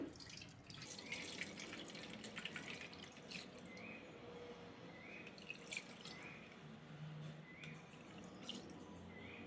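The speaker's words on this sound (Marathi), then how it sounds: "रोळीत ओतून घेऊ हे पाणी" Spiced pani puri water poured through a sieve, a quiet steady trickle and dripping of liquid, faint and close, with no voices.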